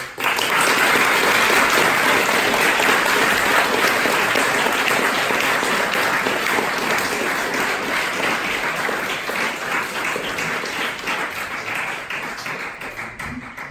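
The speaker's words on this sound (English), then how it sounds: "One final round of applause." Audience applause closing a philosophy talk on the question of the people, a dense sustained clapping from a full room that stays loud for many seconds, then slowly thins and tapers toward the end.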